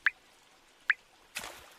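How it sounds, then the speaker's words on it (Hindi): During rain, floodwater is bailed out of a house with buckets: two sharp, close drips ring out in the quiet, then a short, soft splash of poured water follows. "सभी बाल्टी की मदद से घर से बाहर पानी निकालने लगते हैं।"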